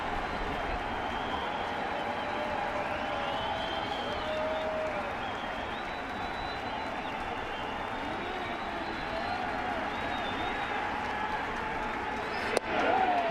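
A crowd of over ten thousand at a Yankees opening day baseball game against the Blue Jays gives a steady distant roar of cheering and applause, with commentators talking over it.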